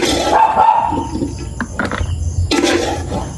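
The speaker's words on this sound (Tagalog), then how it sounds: "Yung aking mga aso, nagtatahulan na." Several dogs barking and yelping close by, overlapping excited barks in quick bursts with a noisy background.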